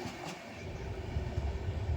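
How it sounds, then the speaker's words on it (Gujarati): A long train rumbles past nearby, a low steady roar with faint rhythmic wheel clatter, fairly quiet and brief. "બહુ લાંબી ટ્રેન જો"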